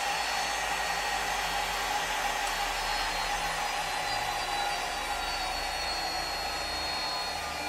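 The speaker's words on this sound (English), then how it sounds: "we'll just close down the spindle" CNC machine spindle motor winding down with no braking: a steady, loud whirring hiss that stays nearly constant throughout, with only a faint drop in pitch and level, and no voices.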